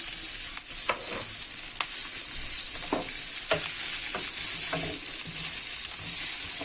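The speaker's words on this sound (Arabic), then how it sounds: "خضار سوتيه مشوي على الجريل" Zucchini and mixed vegetables sizzle steadily on a grill pan, a continuous bright frying hiss with intermittent scraping stirs and soft clacks of a utensil, close and alone.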